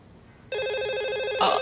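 A telephone suddenly starts ringing with a steady electronic trill, loud and close, after a moment of quiet room noise.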